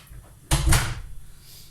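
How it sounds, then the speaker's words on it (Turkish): Kitchen door shut with a single sharp thud and short rattle up close, then a quiet room hum afterward, with no voices. "Ben şu arada kapıyı kapatayım."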